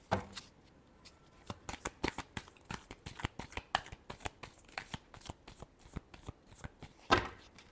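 Tarot cards being shuffled by hand, a rapid series of crisp riffling flicks and slaps in uneven bursts, close and fairly quiet, with a sharper slap near the end.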